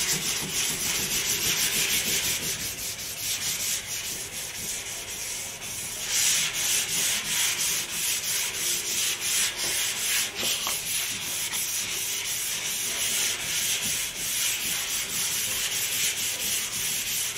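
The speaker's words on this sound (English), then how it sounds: "That fender needs to be sanded down." Close, continuous rubbing of 1500-grit sandpaper over a car fender, steady scratchy strokes with brief pauses and shifts in pressure, no voices.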